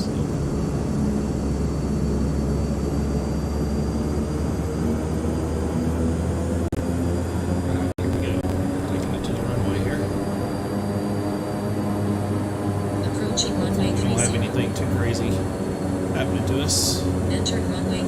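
Beechcraft King Air turboprop airplane lined up on a 3,400-foot runway for takeoff, its engines droning steadily and loudly throughout with a constant hum and rising whine, while a person talks over it.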